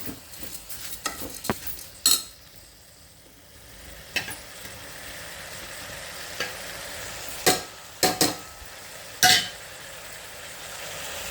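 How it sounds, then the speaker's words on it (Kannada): Washed rice is stir-fried in a vegetable tempering in a pan, giving a soft steady sizzle. A spoon scrapes now and then, with sharp clinks against the pan scattered throughout. "ಇದರೊಳಗೆ ಒಂಥರ ಹುರಿದಂಗೆ ಈ ತರಕಾರಿ ಒಗ್ಗರಣೆ ಒಳಗೆ ಇದನ್ನು ಹುರಿದಂಗೆ"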